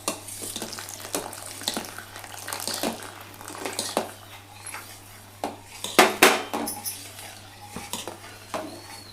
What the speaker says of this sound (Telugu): పోసిన తర్వాత వెంటనే మంచిగా చెంచాతోని ఇట్లా కలుపుకోవాలి